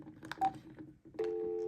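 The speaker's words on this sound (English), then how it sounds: "on my ATAs I can press pound to redial" Keypad tones from an analog telephone adapter redialing: several short touch-tone beeps in quick succession, then a longer steady tone, heard clearly and alone.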